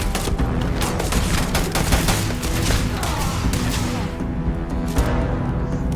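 Dense, continuous gunfire from a weapon in the space game Starfield, rapid close shots overlapping into a loud sustained barrage for several seconds.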